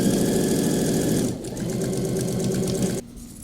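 Sewing machine stitching along a piping seam on a country blouse, a close, steady rapid motor hum with fast rhythmic needle clatter that pauses briefly, then stops near the end.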